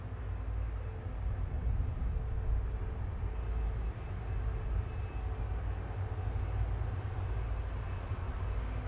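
An Airbus A320neo airliner at Manchester Airport gives off a steady broad jet roar, distant and unchanging throughout with no voices.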